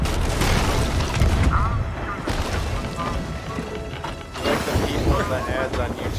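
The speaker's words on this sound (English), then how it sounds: "We shot out of a cannon." A cannon fires in Sea of Thieves, heavy booms and crashes within a noisy game mix, with players talking throughout.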